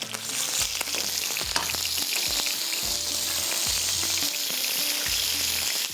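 Chicken frying in butter on a tawa with garlic and ginger, a loud continuous close sizzle with repeated low scraping stirs of a spatula in a loose rhythm.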